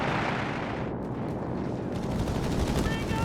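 Heavy automatic gunfire and explosions in the strategy game Company of Heroes 3 roll in a dense continuous battle din.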